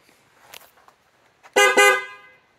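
Horn of a 1984 BMW R100 scrambler motorcycle, sounded in two loud, close honks in quick succession after a few faint clicks and small noises.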